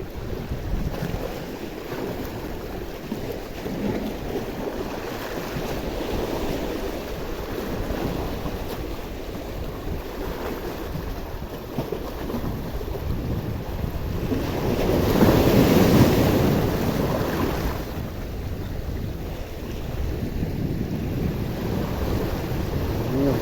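Rough sea surf churns steadily at Chellanam fishing harbour, Kerala, alongside gusty wind buffeting the microphone, with one louder wave surging in about two-thirds through.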